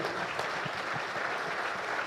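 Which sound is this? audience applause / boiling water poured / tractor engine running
audience applause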